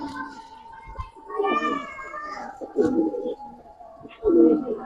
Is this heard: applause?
no